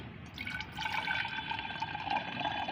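Plain water pours into a container to dilute strained tea-leaf fertilizer, a close, steady trickling and filling sound that grows fuller after a brief start.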